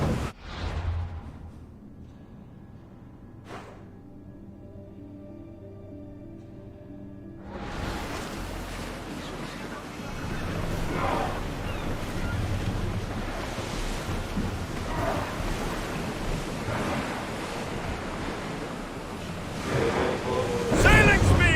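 Surf and rolling ocean waves with wind around a sailing warship at sea in Assassin's Creed Odyssey. The sea wash swells loud and continuous after a quieter opening with faint tones, with gusting wind noise and no talk.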